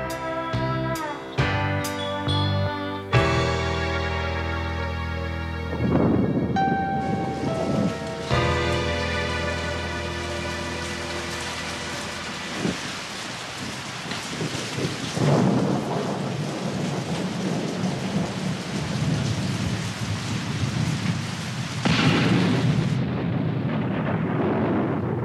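Heavy downpour with rolling thunder in a rainy scene from the Japanese anime Shonan Bakusozoku. Short tonal notes open it, then a dense, steady roar of rain runs throughout with deep rumbles surging and fading. No one speaks.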